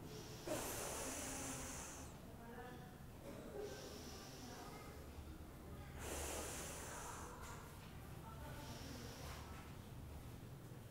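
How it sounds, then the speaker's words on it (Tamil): Slow deep breaths in and out after a yoga pose, several long airy inhale and exhale cycles close to the mic, each a soft hiss with pauses between. "நல்லா மூச்சு இழுத்து விட்டுக்கலாம்"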